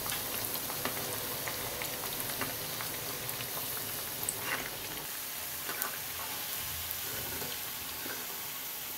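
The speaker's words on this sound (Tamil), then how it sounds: "எப்பயுமே எந்த இது பொரிக்கிறதா இருந்தாலும் கொஞ்சம் ஆயிலில் நல்லா ஃப்ரீயாக வேகிற மாதிரி நம்ம பண்ணிக்கணும்" Banana flower vadai fry in hot oil, a dense, steady crackling sizzle with tiny pops throughout, close and continuous with no talking.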